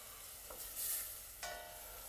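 Onions sautéing in a pan with meat juices for a Croatian beef goulash, a steady quiet sizzle with a couple of soft stirring scrapes, no voices.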